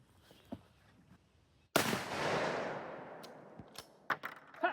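A .450 Bushmaster rifle fires a 250-grain Hornady FTX round into a cinder block outdoors: one sharp, loud report followed by a long rolling echo, with faint clicks and handling sounds before and after.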